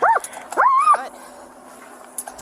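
A police dog whimpers and whines in high, wavering cries, two drawn-out bursts close by, then quieter background noise with faint distant sounds.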